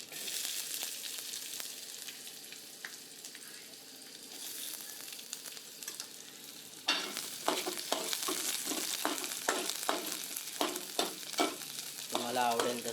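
Chopped onion hitting hot oil with curry leaves in a pan, first a soft background hiss, then a sudden loud sizzle followed by rhythmic scraping stirs, crackling steadily and close up.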